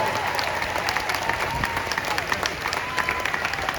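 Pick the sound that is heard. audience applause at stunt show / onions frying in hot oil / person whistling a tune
audience applause at stunt show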